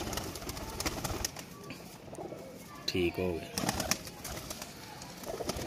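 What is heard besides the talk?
Kasoori pigeon cooing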